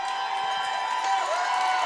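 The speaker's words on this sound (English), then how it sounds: "the home crowd on their feet here for PC" Home crowd cheering at a girls water polo match between Penn Charter and Germantown Academy, a steady moderate roar of voices and whoops filling the indoor pool space from start to finish.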